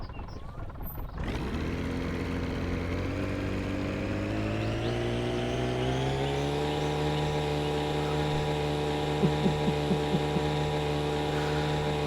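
Boat engine from the video game My Summer Car starting up and settling into a steady, droning low-pitched idle with strong harmonic hum, rising slightly in pitch midway and running continuously and loud with no talk.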